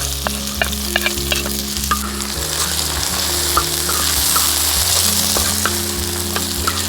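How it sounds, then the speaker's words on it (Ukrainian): Loud, steady sizzling of onion frying in oil, with occasional stirring clicks and a low background hum, no talking. "далі прибираємо зайву олію і обсмажуємо наші овочі. Спочатку йде цибулька."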